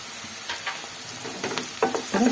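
Dal tadka frying in a pan: a soft sizzle under scattered spatula scrapes that grow louder and more frequent toward the end, with no voices.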